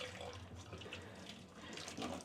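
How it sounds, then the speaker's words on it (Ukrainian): Water runs from a tap and pours down a kitchen sink drain that has been treated with a dishwasher tablet, a steady faint rushing flow with a few splashes and no talk. "Зілью ще водички."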